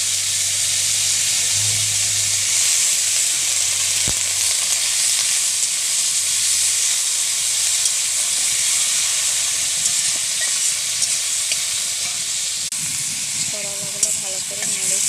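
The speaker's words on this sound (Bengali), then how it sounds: "ওই তেলেতে এরপর করলাগুলো দিয়ে দিচ্ছি।" Seeded bitter gourd slices fry in hot oil, giving a steady close sizzle and hiss that runs throughout, with a few stirring scrapes near the end.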